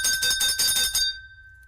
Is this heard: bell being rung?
yes